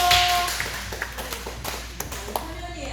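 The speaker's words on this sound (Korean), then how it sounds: "큰 박수 한번 쳐주세요" A church congregation at Ttukseom Church claps briefly during a humanities lecture, scattered hand claps and taps popping out over a background of room noise and a faint voice.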